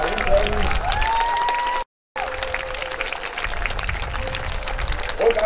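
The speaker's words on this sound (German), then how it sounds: "einen Applaus für den Sound" An outdoor crowd at a knights' tournament on a meadow applauds, a rough, broad patter of clapping with voices over it, briefly cut by a moment of silence before resuming.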